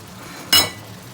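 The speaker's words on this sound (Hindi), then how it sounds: "ढक्कन हमने लगा दिया दोबारा से" A single brief metallic clank as a lid is set down on a cooking pot, close by, with a faint kitchen hum before and after.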